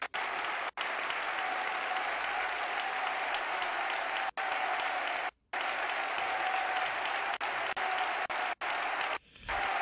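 A crowd at a CB Avenida versus Yekaterinburg basketball game applauds in a dense, continuous roar, broken by a few brief dropouts.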